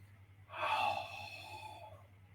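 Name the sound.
deep breathing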